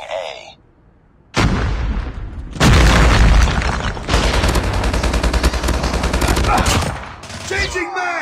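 Loud gunfire and booming explosions from Call of Duty Mobile: dense bursts of rapid shots and heavy blasts, close and continuous, with brief game callouts around them.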